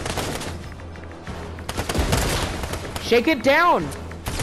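Gunfire crackles in a Fortnite match, a dense mix of shots under excited player voices calling out, with a rising whooshing sweep near the end.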